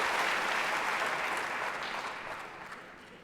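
Sustained applause from a seated audience at a talk in Porto, Portugal, a thick wash of clapping that starts full and gradually fades toward the end.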